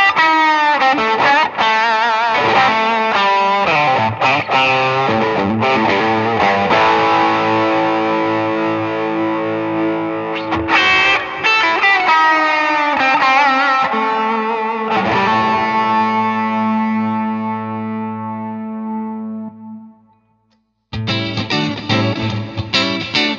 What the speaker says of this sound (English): Fifth one is chamber. The chamber sound is like a recording studio guitar booth.